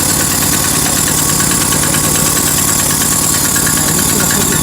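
Predator 420cc Hemi engine fitted to an Ariens 1128 two-stage snow blower runs loud and close with a steady, throbbing idle and dense rhythmic pulsing throughout.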